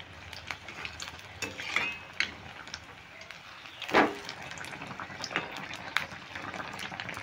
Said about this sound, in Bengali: একদম মিডিয়াম আছে, একটু ধীরে ধীরে ভেজে নিতে হবে, তাহলে ভেতরে ক্যাপসিকামটা সেদ্ধ হয়ে যাবে।